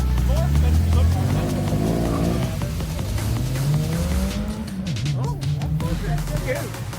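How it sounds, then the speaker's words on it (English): A car with a welded differential doing a burnout at a Memorial Day car meet, engine roaring and tires squealing steadily at a distance while onlookers talk over it. "Listen to that welded diff."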